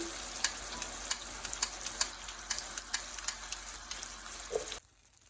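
Flambéed plantains burn off in a pan as a steady hiss and crackle, with regular sharp pops and ticks at close range, cutting out abruptly near the end.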